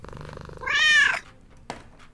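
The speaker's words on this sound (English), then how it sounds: "That was a loud kitty." A house cat lets out a loud, drawn-out vocal purr-meow lasting about half a second, close to the listener, followed by a short faint chirp in an otherwise quiet room.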